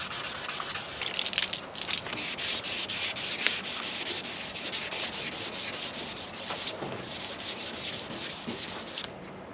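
Continuous abrasive rasp of sandpaper working paint off the body of a Holden GTS Monaro, a steady close scrubbing hiss with brief pauses and strokes, no voices over it.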